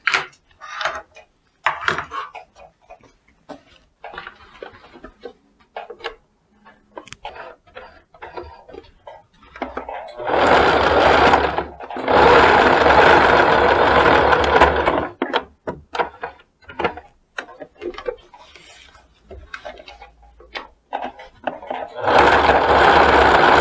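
An electric sewing machine stitches linen with a stiffened interfacing layer for a hat, running in loud bursts of rapid mechanical whirring separated by quieter pauses with ticking handling sounds and speech in between.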